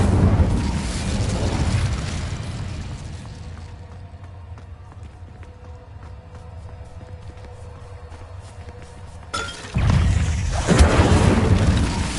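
Incendio fire spell cast in the Hogwarts Legacy video game, heard as a loud booming fiery burst that fades into a low rumbling ambience before another strong whoosh rises near the end.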